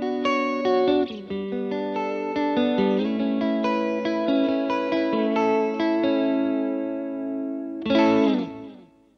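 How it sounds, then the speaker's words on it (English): An electric guitar runs through a Catalinbread Belly Pock delay pedal in an effects loop. Sustained, ringing chords and notes repeat with echo trails for about eight seconds, then a final loud strummed chord cuts off. "So I'm gonna play basically the same thing and I will engage that delay"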